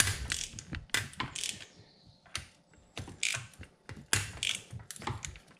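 Ratchet loosening engine bolts on a Honda CB550 during a top end gasket job, with several bursts of rapid clicking and creaking metal close by, separated by short pauses.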